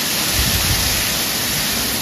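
Heavy rain falling outdoors in a hill town, a steady dense hiss with low rumbling splashes, continuous and fairly loud with no voices.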